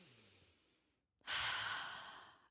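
A voice imitates the deep breathing of people sitting cross-legged with eyes closed in a breathwork circle: a long, fading exhale, a brief pause, then a sharp, loud airy inhale close to the mic.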